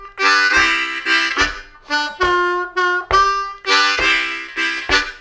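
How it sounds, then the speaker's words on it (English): A blues harmonica plays a lick that opens on the offbeat and uses draw notes with a whole-step bend, set among rhythmic chordal chugs. It sounds close and loud, with no voices. "Now let's have a look at lick 2, which sounds like this."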